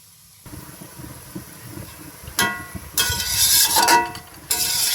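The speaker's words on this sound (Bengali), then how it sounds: "এটা আমি ঢেকে দেব ঢেকে দিচ্ছি" A lid goes onto a cooking pot of dhekishak greens with coconut, giving a few loud metallic clanks and rattles after a quiet start, with a soft hiss between them.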